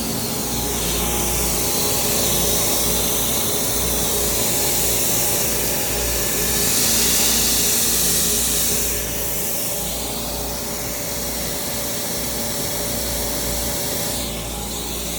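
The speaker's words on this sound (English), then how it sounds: "taking a piece of 1/8" aluminum, and I am surfacing it down to 90 thousandths" A CNC machine surfaces a piece of 1/8-inch aluminum plate down to 90 thousandths for door bottom end caps. The cutting noise is a steady, loud, broadband whir that swells briefly midway and runs without any talk.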